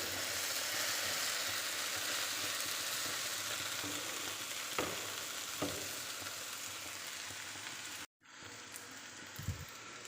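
Okra (bhindi) frying in a pan, tender pods cooking down: a steady, dense sizzle fills the clip with a couple of light stirring clicks, then drops out abruptly near the end before a brief faint scrape.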